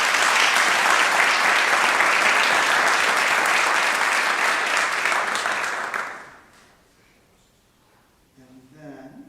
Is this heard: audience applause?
yes